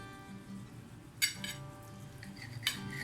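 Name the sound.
knife cutting cooked chicken mixture into chunks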